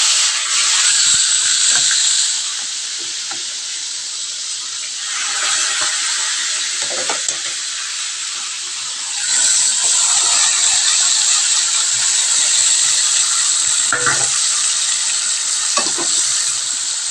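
Marinated chicken fries in a pan with oil and is turned with a spatula. A loud, steady sizzle swells and eases, broken by occasional scraping stirs, with no talking.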